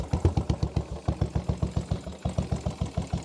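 Repaired motorbike engine, formerly a non-runner, idling steadily after starting on the button, with a close, loud, regular chugging rhythm of evenly spaced exhaust pulses and no talk.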